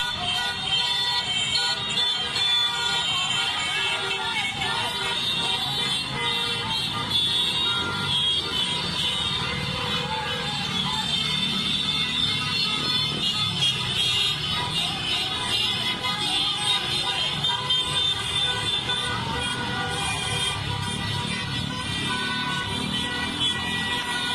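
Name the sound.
noise barrage of honking car horns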